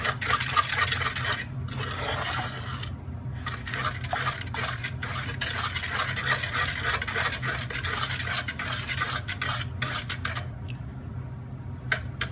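A spoon stirs a thick sugar mixture for pashmak in a bowl, a continuous close scraping and rubbing with quick irregular clinks against the bowl, moderately loud, with a low steady hum beneath and no speech.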